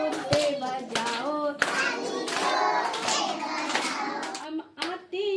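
Hand claps from a group of children keep the beat of a sung nursery rhyme, the clapping mixed under loud, close children's singing with a few sharper claps standing out.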